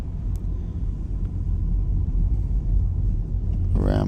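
A car driving along a coast road in Guernsey makes a continuous low interior rumble of engine and tyres, steady and close throughout, with a rising whine near the end.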